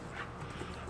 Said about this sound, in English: Are you some crazy dog or something? You never act like this.